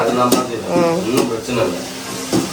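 Large ladle scraping and stirring mutton biryani masala in a pot, a few distinct metallic clinks over a soft frying sizzle, with a person talking throughout.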